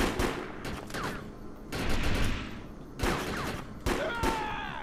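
Gunfire from shooting enemies in the video game Defiance, with sharp bursts of rapid shots in several volleys and brief pauses between them, loud and close.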